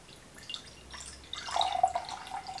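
Marshmallow root cold infusion drips and spills through an open-mesh strainer, with faint scattered splashes growing into a louder trickling pour in the second half, alone without talk.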